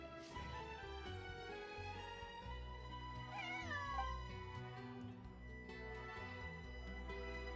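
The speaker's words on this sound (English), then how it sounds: "This is my friend's cat." A cat in the Genshin Impact video game meows with rising and falling cries over steady background music, sounding near and moderately loud.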